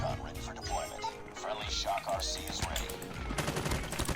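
Rapid automatic gunfire from Call of Duty Mobile, likely an FR.556 rifle, rattles in dense bursts over game music and effects while someone talks.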